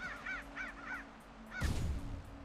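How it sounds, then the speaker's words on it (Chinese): Crow caws in a video game, several harsh calls in a quick run near the start, then a louder burst of game sound that masks one final caw. "我刚闪过了乌鸦，结果我没打到它，它还回来要咬我"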